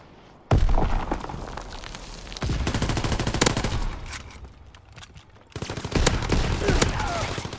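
Video game gunfire: heavy bursts of rapid shots and booms in rolling volleys, loud and close, with brief lulls between the barrages.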